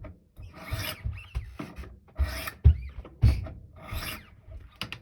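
Steel blade of a Spyderco Para 3 folding knife in Cruwear being sharpened, with steady rasping strokes repeating about once a second, close and moderately loud, with no talking.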